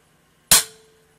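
A rifle dry fired during a function test after a trigger replacement gives one sharp metallic snap of the released hammer, close and loud, with a brief ringing tail.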